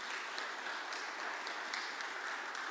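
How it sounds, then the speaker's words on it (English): Applause for a visiting worship band at an evening church service at Willowfield, a steady wash of many hands clapping together at moderate distance, even and sustained throughout without talk. "I know they'll hate getting a round of applause, but thank you"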